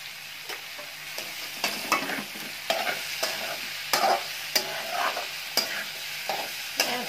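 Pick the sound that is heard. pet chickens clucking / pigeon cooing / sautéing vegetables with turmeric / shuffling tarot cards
sautéing vegetables with turmeric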